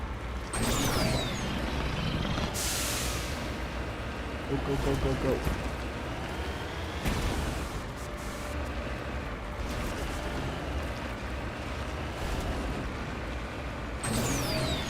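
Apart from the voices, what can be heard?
car driving uphill in the Mass Effect Legendary Edition video game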